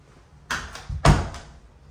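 A small closet door in a laundry room opening, two quick close knocks and thuds of the door moving and latching, with no talk.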